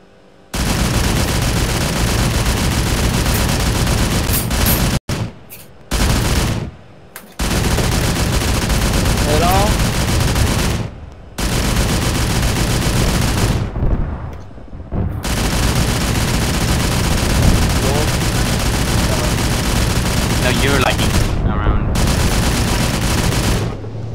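Sustained rapid gunfire and machine-gun bursts in a Tekkit game battle, loud and continuous with a few short gaps, under occasional talk.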